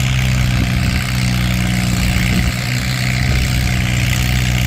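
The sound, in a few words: antique tractor engine during a tractor pull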